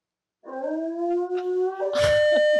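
A dog howls in a long, wavering tone that rises slightly, then breaks into higher whimpering yips near the end, close and fairly loud.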